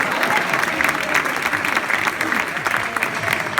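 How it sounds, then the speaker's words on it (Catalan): A crowd applauds a brass street band (xaranga), dense continuous clapping throughout the short stretch. "un fort aplaudiment per a la banda"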